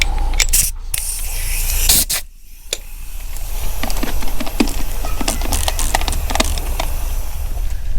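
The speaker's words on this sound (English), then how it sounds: "So we have a little bit of a brake cleaner, okay? So we're gonna clean this radiator" Brake cleaner sprayed from an aerosol can onto a car radiator during VW T5.1 intercooler replacement work, giving a few loud hissing bursts early on, then a broadband hiss with scattered clicks and scrapes.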